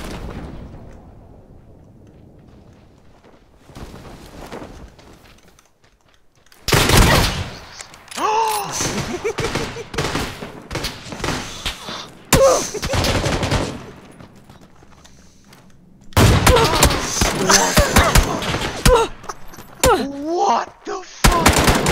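Gunfire in the battle royale video game PUBG crackles in several loud bursts of rapid shots, separated by quieter stretches, with occasional talk between the volleys.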